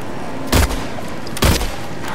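Two loud gunshots in Silent Hill 2 Remake land close together, about a second apart, each a heavy boom with a brief decay over a steady ambient hum.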